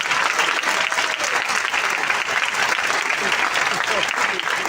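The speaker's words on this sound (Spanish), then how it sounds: "Aplauda con gozo" A church congregation claps with joy during a sermon, a dense, continuous wash of many hands at constant loudness, with voices and cheers mixed into the crowd noise.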